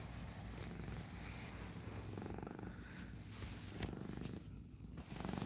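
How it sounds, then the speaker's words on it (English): A cat purrs steadily and continuously up close, a low, soft rumbling with a regular rhythm. "she is purring away."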